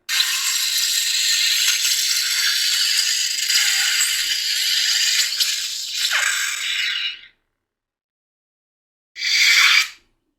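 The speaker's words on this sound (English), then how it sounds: "if we held down auxiliary for blade lockup" A lightsaber blade lockup effect: a sustained bright crackling, sizzling hiss runs steadily for several seconds, cuts out, then returns as a short burst.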